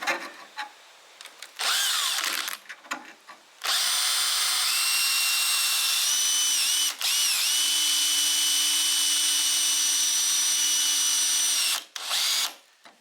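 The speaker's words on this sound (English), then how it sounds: "I'll do the bigger drill to show you how it comes apart" A drill bores out spot welds in the steel of a Holden HK/HT/HG front guard during rust repair, with several short bursts followed by a long, steady high whine that dips briefly as it bites, close and loud.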